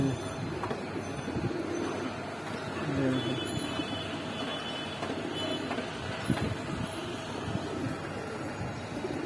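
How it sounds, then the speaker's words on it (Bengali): Black pigeons of an old shaggy-feathered breed coo from a loft, their low throaty calls repeating softly through a steady wash of background noise. "এটা আপনার পুরান জাতের কালা কালা ঝাপড়া কবুতর।"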